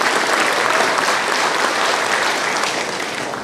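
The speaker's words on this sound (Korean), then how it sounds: "박수 소리가 작은 게 행동을 잘 안 하실 것 같은데" Applause from an audience at a political party year-end gathering in Hongseong, a dense sustained clatter of many hands that holds steady and then thins slightly toward the end, heard alone without speech.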